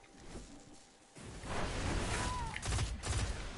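Sniper gunfire in a multiplayer shooter tournament match, a muffled burst of sharp reports and whooshes building in the second half, loud and close, with no talk.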